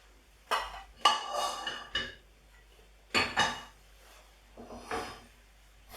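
Kitchen dishware clattering as a bowl is grabbed for serving venison and mushroom pesto pasta: several sharp clinks and knocks in three separate bursts, close and fairly loud, with no talking.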